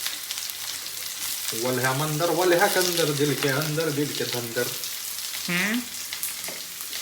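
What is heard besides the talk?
onions sizzling while tempered in a nonstick pan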